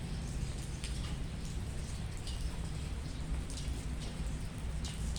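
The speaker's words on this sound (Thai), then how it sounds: "ฝนตกมาเปียกครับ" Steady rain falls on a construction site, a dense even hiss with scattered drop patters continuing throughout, moderately loud with no voices.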